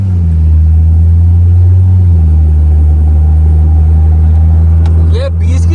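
A car engine drones loudly and steadily from inside the vehicle while driving in third gear at low speed, with the pitch shifting as it accelerates, and people talk over it near the end.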